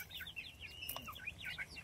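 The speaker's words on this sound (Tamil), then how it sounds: "கோழி புடிமா, கோழி புடிமா, கோழி புடி" Chicken clucking in short, chirpy bursts across a farmyard scene, moderately close and fairly soft, with a low background rumble and no talk.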